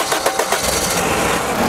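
A Toyota station wagon engine starting: a brief cranking stutter that catches into a loud, steady running rumble, heard up close.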